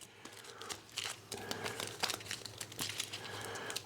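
Game cards for a solo wargame being shuffled by hand on a table, a close, quiet run of papery flicks and crinkling riffles in irregular bursts.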